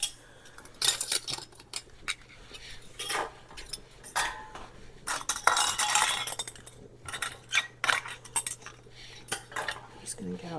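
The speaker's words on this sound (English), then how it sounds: "I'm going to drop my little jars in carefully" Small glass canning jars clink and clatter against metal as they go one after another into a pot of rolling boiling water, with sharp, irregular knocks up close.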